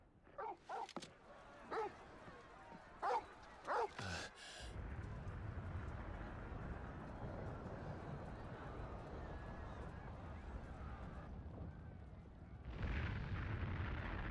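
In Final Fantasy XVI, a dog barks several sharp, close times in quick succession, followed by a loud burst and a long rumbling roar of noise.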